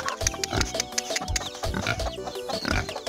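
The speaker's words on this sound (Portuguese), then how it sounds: "Vou mostrar os porcos aqui pra vocês" Pigs on a small farm grunting and oinking in a busy, overlapping series of snorts close by, loud and continuous with a male and females penned together.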